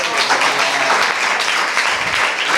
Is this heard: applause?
yes